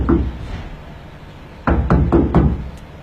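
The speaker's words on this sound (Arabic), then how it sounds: "شنو جاي تدق باب بيت؟" Knocking on a house door: one faint knock, then a pause, then a quick run of four firm raps close by, each sharp and hollow.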